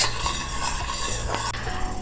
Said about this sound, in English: So as you can see, now it's boiling, but it's not ready yet.